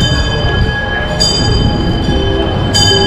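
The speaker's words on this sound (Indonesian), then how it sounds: "Ini kereta tur ini" A cruise port tour train rolls past close by, a steady loud rumble of wheels and carriages with faint high squeals running throughout.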